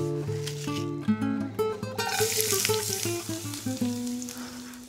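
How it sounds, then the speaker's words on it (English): Half an onion, sliced, sautés in a thin film of olive oil in a skillet over medium-high heat, making a steady close sizzle with some tonal sounds running alongside it. "I'm going to add a little film of olive oil and then slice half an onion to saute until it's brown."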